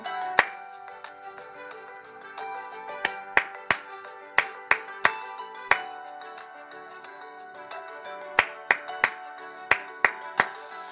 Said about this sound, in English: Reading and clapping on your own.